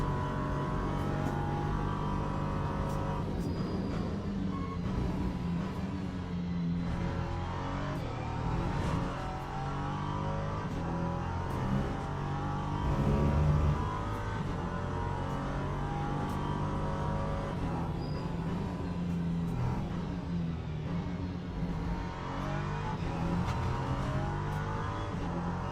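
A hypercar engine in the racing sim Le Mans Ultimate, a steady, droning whine that rises and falls through gear changes over roughly half a minute, heard close and continuous without speech.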